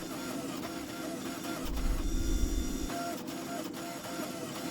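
A hydraulic forging press squeezes a bar of ball bearing steel, a low heavy rumble and whine swelling for about a second in the middle of a steady shop hum, with faint clanks around it.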